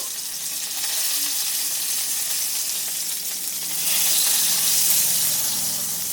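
Shrimp paturi wrapped in taro leaf sizzles steadily in a hot pan, a dense, close frying hiss that grows louder after the parcel is flipped.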